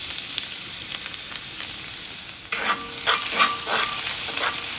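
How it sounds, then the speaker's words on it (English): Garlic and ginger hit hot sesame oil in a cast iron wok for chicken fried rice, a steady close sizzle that swells louder midway with crackling spatters and stirring scrapes, no speech. "We're going to add our garlic and our ginger to the pan."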